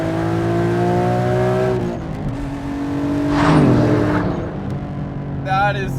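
A turbocharged 500 WHP big-turbo BMW M3 engine revs and accelerates hard, harmonic tones climbing in pitch before a whooshing surge; loud and close, ending with a brief high whine.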